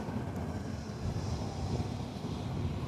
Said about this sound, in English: Wind kind of high today